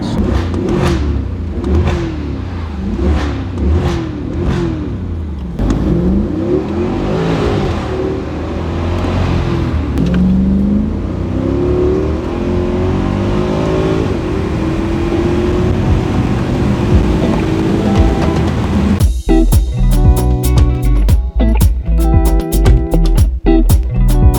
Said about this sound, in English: So here is our Cl63. We're gonna go ahead and pull it into the bay.